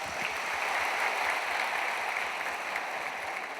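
Applause from a concert audience honoring a national artist at a Thai country-music show, a dense, even wash of many clapping hands sustained throughout at moderate distance.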